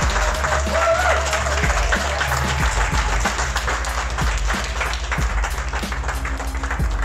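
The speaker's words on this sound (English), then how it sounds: "can I have a round of applause for both of them?" A crowd at the Shrewsbury Food Festival 2021 gives a round of applause, a loud, dense and continuous spread of clapping that holds steady throughout with low background rumble.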